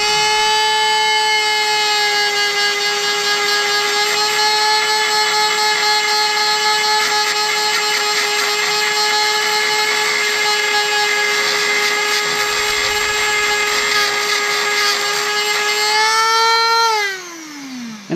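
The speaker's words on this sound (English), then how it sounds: "I have one of these little tiny Dremels that you can get pretty cheap now with a mildly abrasive sanding pad on the end." A small, inexpensive Dremel rotary tool fitted with a mildly abrasive sanding pad runs at a steady high-pitched whine for about seventeen seconds while scrubbing old gasket material off an Arctic Cat 400 engine part, then spins down at the end.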